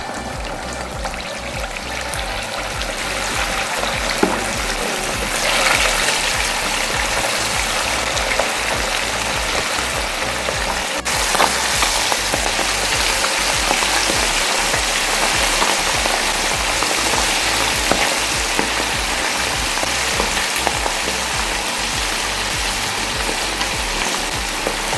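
Chicken pieces frying in hot oil for a chicken rendang, giving a steady dense sizzle that crackles continuously throughout and resembles heavy rain.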